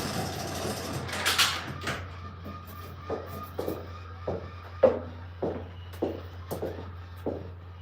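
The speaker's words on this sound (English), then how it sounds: "Let me shut the door real quick" A door being shut, starting with a shuffling scrape and a louder thud, then a run of softer knocks and bumps over a steady low electrical hum.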